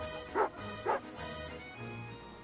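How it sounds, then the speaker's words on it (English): A dog in Genshin Impact gives two short, sharp bark-like bursts, then a low grumbling growl at moderate volume. "Angry doggy."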